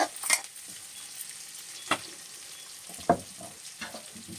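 Sliced onions and green chillies lightly frying in a pan for Andhra-style vegetable biryani, with a soft continuous sizzle broken by a few sharp stirring scrapes and no talking.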